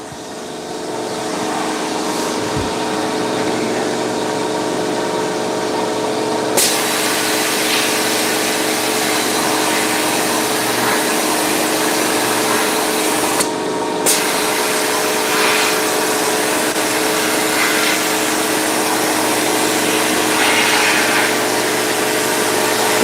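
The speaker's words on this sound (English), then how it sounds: "even if the vacuum system fails, the sandblaster will still work" A sandblaster runs steadily with its vacuum recovery system, a loud, continuous broadband hiss and hum over a constant low drone, with a couple of brief dips and one short knock along the way.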